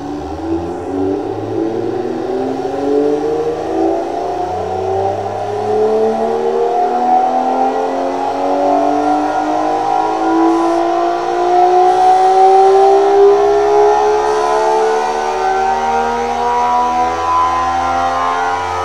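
A virtual engine in a realistic engine-building game revs steadily upward toward a 12,000 RPM rev limiter, a loud continuous climbing whine with layered harmonics and no talking.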